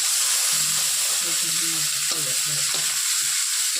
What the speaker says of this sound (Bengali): এই যে চিংড়ি মাছ ভাজা হয়ে গেছে।